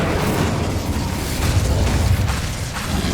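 Fire spell cast in the video game Hogwarts Legacy, a loud, continuous roaring blast with rumbling low boom and crackle sustained throughout, no talk.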